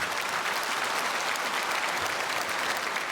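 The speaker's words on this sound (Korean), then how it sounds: "우리 크게 박수로 환영하겠습니다" A church congregation at Sunday service claps steadily to welcome newly registered members, a dense even wash of applause that holds without a break.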